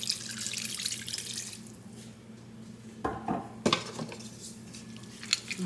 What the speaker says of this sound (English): I'm going to add some more water, which looks like I probably will